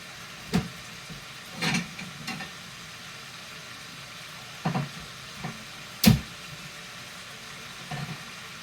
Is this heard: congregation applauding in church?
no